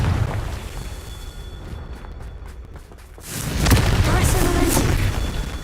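A Confringo blasting spell goes off in the Hogwarts Legacy video game, a booming burst followed by a rumbling, crackling explosion with a whooshing tail, loud and close after a quieter stretch of ambient game sound.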